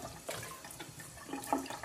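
Water splashing and running as the bottom of a plastic seed-starting tray is washed, quiet irregular sloshes and trickles close by with no talking.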